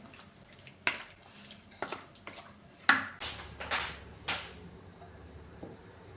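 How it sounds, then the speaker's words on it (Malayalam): Raw prawns being mixed by hand with salt and crushed black pepper in a bowl, giving scattered wet clicks and light clatters against the dish, a handful of distinct knocks spread irregularly, close and fairly quiet, no voices. "ഇനി ഇതെല്ലാം കൂടെ നന്നായിട്ടൊന്ന് മിക്സ് ചെയ്യാമേ."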